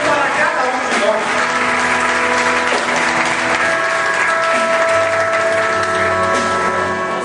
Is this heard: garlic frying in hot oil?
no